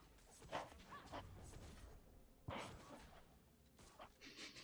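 Dog barks in a League of Legends match: a few short yips and barks spaced across a few seconds, faint and thin over quiet game sounds.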